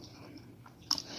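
Brief crunchy chewing of air-fried tempura vegetables, a soft bite and crunch up close ending in a sharper crackle.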